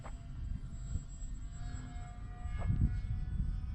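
An X-Fly P-68 mini twin RC plane flies overhead, its electric motors giving a steady, moderately distant whine with faint sustained tones that swell slightly toward the end.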